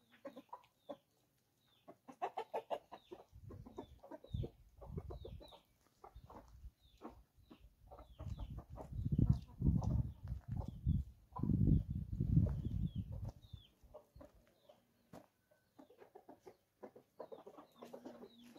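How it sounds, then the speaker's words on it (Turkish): A backyard hen clucks in short repeated bursts, close and fairly loud in the middle stretch, with quieter clucks and bird chirps around it. "Gülüşlü tavuğumuzu da salalım bir."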